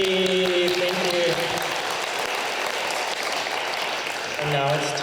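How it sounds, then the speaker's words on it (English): Sustained audience applause at an international school literacy celebration in northern Japan, steady dense clapping throughout with a voice speaking briefly over it at the start and end. "A round of applause for Marie and Ji. Give them a hand."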